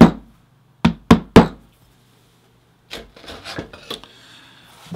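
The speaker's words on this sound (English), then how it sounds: "I like to give it a little tap with my hammer." A hammer taps a glued leather pocket three times in quick succession, sharp close knocks, followed by softer rubbing and scraping of the leather.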